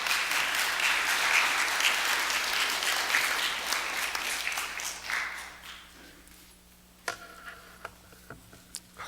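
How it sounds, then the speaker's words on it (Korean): A church congregation claps in welcome for a visiting pastor, starting as loud, sustained applause that gradually dies down to a few sparse, isolated claps. "박수로 한번 환영하겠습니다."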